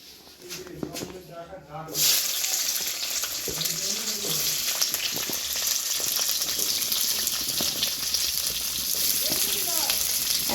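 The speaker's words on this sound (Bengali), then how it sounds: "ক্যাপসিকাম নিয়েছি টমেটো নিয়েছি আর পেঁয়াজ নিয়েছি কিউব কিউব করে কাটা আছে এগুলো হালকা হালকা করে ভেজে নেবো একটু" Capsicum, tomato and onion cubes fry in a pan for a village soybean curry, a steady loud sizzle that starts abruptly and continues throughout, with a faint voice early on.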